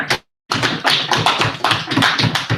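Applause at a debate round, a dense burst of hand clapping that cuts off briefly, then resumes as steady, close, overlapping claps from a small audience.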